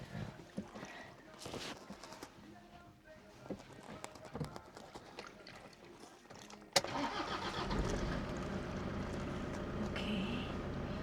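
A car engine turns over and catches, then settles into a steady idle, loud and close inside the cabin, after quieter rustling and handling sounds in a car being readied for reversing.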